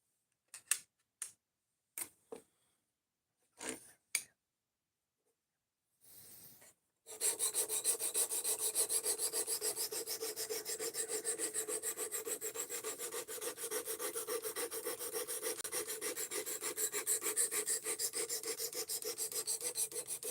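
Knife sharpened on an inexpensive sharpener: a few brief scraping strokes with pauses, then a long, continuous rapid rasping grind that carries on steadily to the end.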